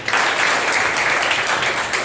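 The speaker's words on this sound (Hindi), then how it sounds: "एक जोरदार ताली बजाइए।" A church congregation at a Sunday morning service bursts into loud, sustained applause, a dense wash of many hands clapping together at close range with no pauses.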